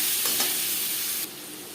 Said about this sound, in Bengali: গ্যাসের ফ্লেমটাকে একেবারে লোতে করে দিয়ে ঢাকনা চাপা দিয়ে 4-5 মিনিট আলু ভেজে নেব